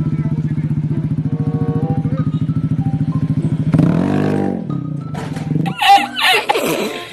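A motorcycle engine is revved loudly in a fast, steady pulsing burst for several seconds close by, then cuts off, followed by clattering and brief chicken-like clucking sounds.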